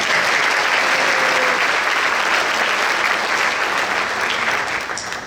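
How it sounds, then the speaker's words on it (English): A crowd applauds steadily for about five seconds, dense and loud, before the clapping starts to fade at the end. "We'll clap for him."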